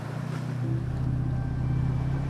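A steady, droning motorboat engine hums continuously at close range in the Maldives, with a constant low rumble and no voices.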